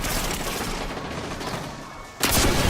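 A rocket launcher fires in the shooter game Destiny 2, a sharp, loud burst at the very end after a steady wash of game noise and ambient rumble.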